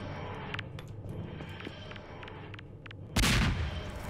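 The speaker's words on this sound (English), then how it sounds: "Grenades." Grenades go off in Garry's Mod, with sharp metallic pops scattered through a dense rumbling background, ending in one loud, broad blast near the end.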